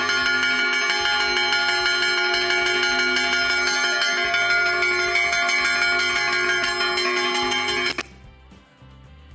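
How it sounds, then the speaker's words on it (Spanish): Church bells in Puebla del Prior, Extremadura, pealed by hand by a bell ringer, ring out in a loud, dense, continuous clangor of overlapping tones for about eight seconds before cutting off into a fading hum. "El repique de campanas desde Puebla de Prior."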